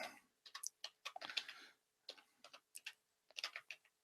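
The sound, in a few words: typing on a keyboard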